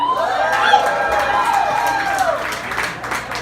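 A lively crowd cheers and whoops loudly, with high excited voices and scattered clapping filling the room continuously.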